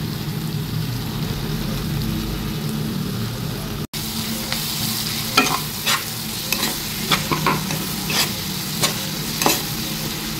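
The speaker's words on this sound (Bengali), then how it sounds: "মশলার সাথে একটু ভেজে নেবো ভালো করে।" Garlic and green chilli frying with spices in a pan, a continuous bubbling sizzle that turns into a run of sharp, irregular spoon scrapes in the second half, close and loud, nobody talking.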